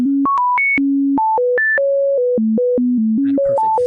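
Computer-synthesized pure tones stepping through a rapid melodic sequence of steady pitches with an added major third, loud and clean, ending with some faint background noise.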